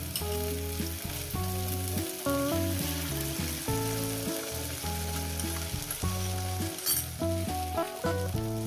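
Egg and snake gourd fry in a pan with a continuous sizzle beneath prominent tonal music, close and steady for the whole stretch, with no voices.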